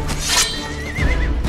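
A horse whinnies in the film Gladiator (2000), a loud, close neigh rising and wavering over background movie sound, alone without talk.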